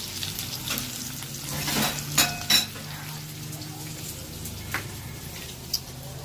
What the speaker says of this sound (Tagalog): Prito yung tatas.